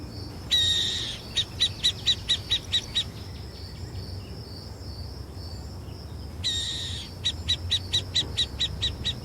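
Burrowing owl calling in open country: repeated bursts of high, rapid chattering notes in evenly spaced pulses, two clear sequences separated by a pause, over a steady insect-like background hum.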